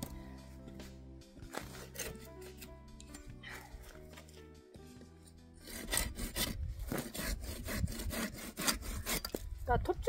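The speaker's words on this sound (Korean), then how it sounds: "나 톱질은 너무 잘하는 것 같아." Firewood being hand-sawn on a stand for a wood stove, with rhythmic rasping strokes that start lighter and grow louder and faster partway through, heard up close.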